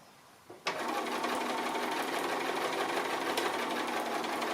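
Sewing machine stitching a quarter-inch seam on a curved patchwork cushion, a click then a steady fast whirring hum that runs continuously at close range.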